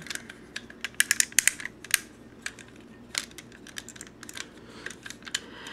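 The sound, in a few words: plastic Power Rangers Megazord toy parts being folded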